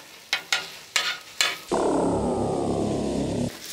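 Eggs seasoned with sumac are chopped on an outdoor griddle: four sharp spatula taps on the hot metal, then a loud steady sizzle as the eggs fry.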